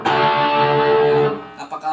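An electric guitar played through a Joyo American Sound pedal with distortion engaged: a loud, sustained overdriven chord rings for over a second, then fades into a few choppier notes.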